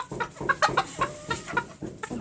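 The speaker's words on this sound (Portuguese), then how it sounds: "O galo, gente." Rooster on a backyard poultry setup clucking in a run of short, close, bright calls, with hens nearby and no talk over it.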